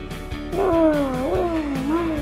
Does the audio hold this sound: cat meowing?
yes